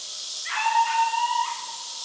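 Dolly, a hound dog running a rabbit with her kennel mate, lets out one drawn-out bay lasting about a second, carrying over a steady background hiss with no talking.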